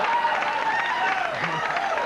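A television studio audience cheering and applauding for Regis at his 30th anniversary in show business, a dense, continuous wash of clapping and crowd noise with voices mixed in.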